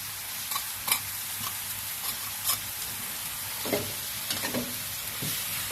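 Pork, cabbage, egg and steamed wide rice noodles stir-fried in a pan, with a steady loud sizzle and irregular scraping clinks of the spatula tossing the food.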